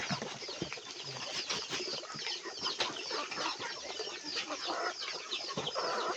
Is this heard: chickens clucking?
yes